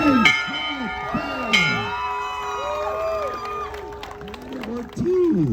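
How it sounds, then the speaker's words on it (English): At a Class of 2023 graduation celebration, a student rings a bell with bright clanging strikes that ring out over a cheering, shouting crowd with voices throughout. "ring that bell"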